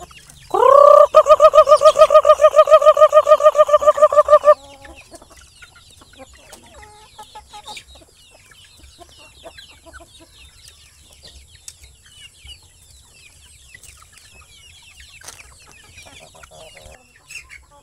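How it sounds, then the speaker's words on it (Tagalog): Native chickens on a provincial farm cluck loudly and insistently for the first few seconds, then settle into faint scattered clucks and soft rustling for the rest. "ito po ang aking mga native chicken"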